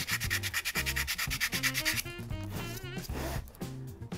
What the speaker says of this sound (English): that's sanding rather nicely compared to that one.